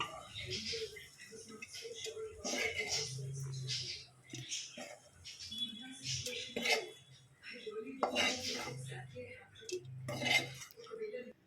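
Fried masala for chicken chops being scraped and tipped into a mixer jar, with clinking of a spoon against metal vessels and soft scraping, intermittent and close, under quiet talk.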